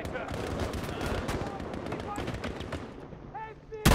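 Rapid bursts of video game gunfire crackle in quick succession, loud and close, with a brief pause near the end before one final sharp shot.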